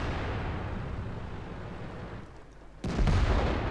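A single heavy tank cannon shot from a Soviet IS-3 heavy tank in World of Tanks bursts in loudly after a steady rumble of engine and battle noise, followed by a booming tail.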